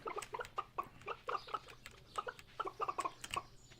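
Chickens in the farming video game Stardew Valley cluck in a rapid string of short, bright calls, several birds overlapping close by with no talk.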